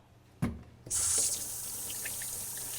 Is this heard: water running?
yes